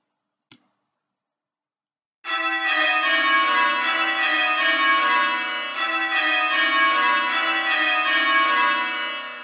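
Church bells ring in a bell-ringing simulator on a computer, a rapid continuous peal of overlapping tolls that starts abruptly after a single click and carries on loud and steady to the end.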